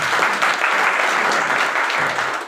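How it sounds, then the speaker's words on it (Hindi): Audience applause at a business presentation by a leader of the AWPL network, steady dense clapping sustained loudly throughout with no pauses. "तो अपने लिए जोरदार तालियां होनी चाहिए"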